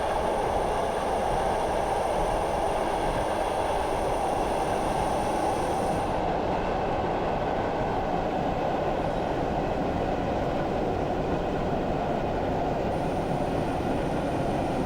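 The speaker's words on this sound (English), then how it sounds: "We're going to start slowing up our train." A train slows on the Stour Valley Railway line near Earls Colne in Train Simulator Classic, a steady loud rolling rumble with a broad wheel-and-rail roar holding level throughout, no talk over it.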